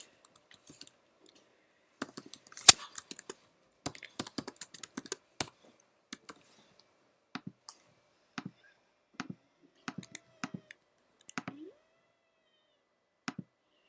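Keys on a computer keyboard are tapped in quick clusters, then in sparser single clicks, close and crisp against a quiet background.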